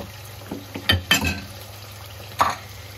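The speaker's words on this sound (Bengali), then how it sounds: "আমি সুন্দর করে মাংসগুলো একটু ভেজে নিব।" Chicken pieces frying in a pan with a low sizzle, broken by several sharp spatula scrapes and clanks against the pan, close by.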